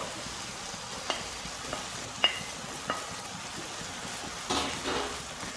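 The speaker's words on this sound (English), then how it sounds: "Now it's time to add the meat which we have separated from the stock." Boiled mutton, separated from its stock, goes into a pot for a yakhni layer biryani, bringing a soft continuous sizzle dotted with a few sharp spoon taps and stirring scrapes.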